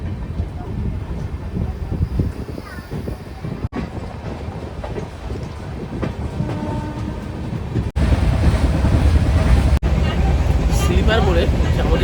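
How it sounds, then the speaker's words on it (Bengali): Kanchan Kanya Express running out of Kishanganj Junction on a foggy morning, a loud steady rumble and rattle of the general coach with wind buffeting, under people talking throughout. "2 মিনিট হল্ট করে 6:38-এ আমাদের ট্রেন কিষানগঞ্জ জংশন থেকে ছেড়ে দিল।"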